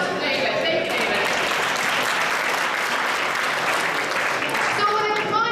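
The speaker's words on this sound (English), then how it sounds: "Give me a round of applause, it's awesome." A sustained round of applause from an audience at a leadership talk, dense steady clapping filling the whole stretch at even loudness.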